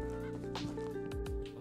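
A chicken in the farming video game Ranch Simulator clucks and squawks in a short, loud, close burst of agitated fowl calls, with no talking.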